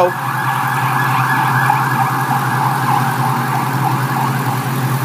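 A loud, steady ambulance siren wails continuously, close by, with a low road and engine rumble underneath.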